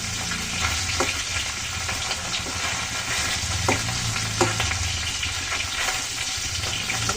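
Tengra fish frying in oil with cauliflower, potato and tomato nearby: a steady dense sizzle and crackle of hot oil, close and even throughout, with faint scattered pops.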